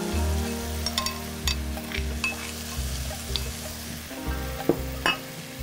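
Chicken and mushrooms sizzle steadily in a pan while a utensil stirs them, with intermittent scraping clinks over the continuous frying.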